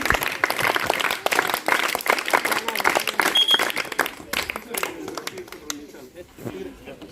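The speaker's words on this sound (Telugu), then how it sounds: "అందరికి ఒకసారి గట్టిగా చప్పట్లు కొట్టుకుంటాను" A crowd applauds loudly at a police martyrs' commemoration week event, steady clapping that thins toward the end while voices rise over it.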